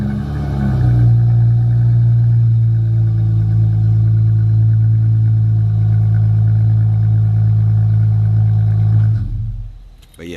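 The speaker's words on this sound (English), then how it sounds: "I'm gonna go ahead and give y'all a sample." A 2019 Dodge Challenger GT engine runs in a deep, loud steady drone that holds for several seconds, then drops away sharply near the end.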